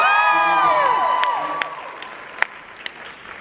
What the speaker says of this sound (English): Let's hear it for Karen.